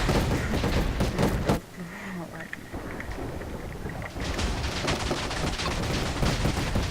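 Video game gunfire crackles in dense, rapid bursts at the start, pauses briefly around a short tonal sound, then resumes as sustained loud shooting through to the end.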